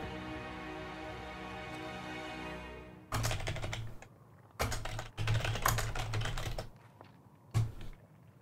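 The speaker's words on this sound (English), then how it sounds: "Type some words." Rapid clattering keystrokes on a computer keyboard, loud and close, in several bursts separated by short pauses after a quiet opening.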